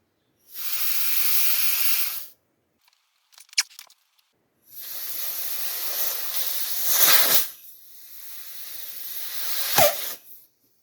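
Loud bursts of compressed air hissing into a heat exchanger, three long blasts separated by pauses, with a few short clanks and clicks in between.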